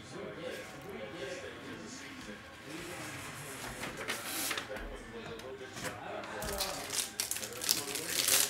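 A printer feeds out a sheet with soft, quiet mechanical whirring and paper crinkling, partly masked by voices talking in the background.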